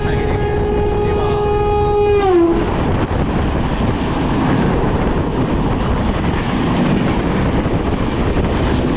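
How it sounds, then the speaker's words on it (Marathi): A Ratnagiri–Diva train on the Konkan Railway sounds a long horn blast, then roars past close by with a heavy, sustained rolling rumble and wind buffeting. "9:15 वाजले आणि आलेली आहे तिकडून ट्रेन"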